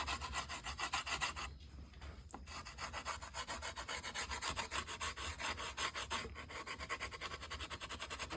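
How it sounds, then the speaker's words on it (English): Wood rubs back and forth against a violin bass bar during chalk fitting, a close, rhythmic rasping with quick regular strokes, briefly pausing before resuming at the same pace. "So I'm going to do chalk fitting. I'm just going to rub some chalk on there"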